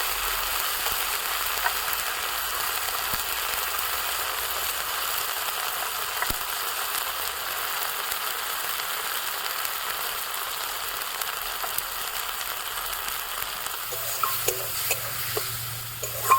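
Turmeric, chili powder and salt are stirred into a frying mustard curry in a village kitchen, a steady close sizzle with light scraping and clicking from the stirring.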